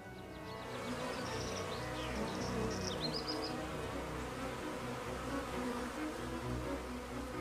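Honeybees foraging for nectar among bright flowers in a field, a steady droning buzz close by, with a few faint bird chirps above it.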